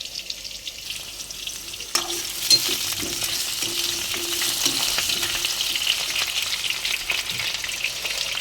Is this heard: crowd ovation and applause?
no